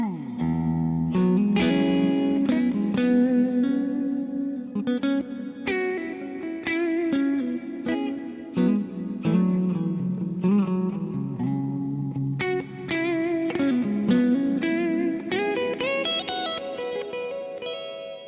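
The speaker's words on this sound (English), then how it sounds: "Big Hall is the natural reverb algorithm." Electric guitar chords and melody through a Kemper amp's Natural Verb Big Hall reverb, ringing out with a huge, washy hall reverb, notes blurring together into a sustained cloud of sound.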